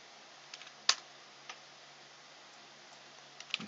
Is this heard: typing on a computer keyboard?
yes